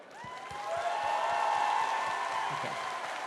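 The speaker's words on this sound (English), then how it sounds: "please applaud" An audience at a fan convention Q&A with actor Bill Moseley breaks into applause that builds and holds steady. Cheers and a few whistles rise over the clapping.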